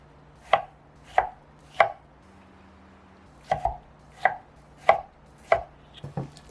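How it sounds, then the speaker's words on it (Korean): Knife chopping tomatoes into small pieces on a board, about ten crisp, close strikes in an uneven rhythm with a short pause midway, heard alone without talk. "토마토는 작은 크기로 자를게요."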